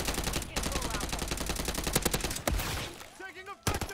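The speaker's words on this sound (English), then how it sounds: "Taking effective fire, Charlie. Reloading" Near-continuous automatic gunfire in Call of Duty, loud and rapid, with rattling bursts running through most of the clip, a brief lull near the end, then another sharp volley.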